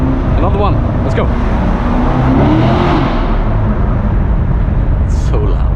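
A 2016 Chevrolet Corvette C7 Stingray engine roars loud and steady from inside the car while accelerating through a tunnel, a sustained engine drone with a brief voice over it.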